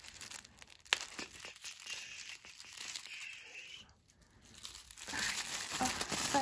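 Snowflake-patterned tissue paper is unwrapped and crinkled close up, with a steady crackling rustle, a sharp crunch near the start, a brief lull and then renewed crinkling.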